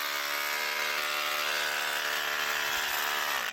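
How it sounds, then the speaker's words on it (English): A power drill bores through rock while digging for amethyst in the Kingston Range, giving one steady, loud, high whine with a constant pitch that runs for a few seconds and then cuts off abruptly. "I'm drilling right through"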